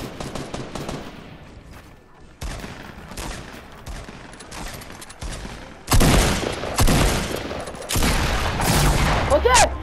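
Rapid bursts of gunfire from a first-person video game shooter, loud and close, building into dense volleys with sharp crackling shots that grow heavier toward the end.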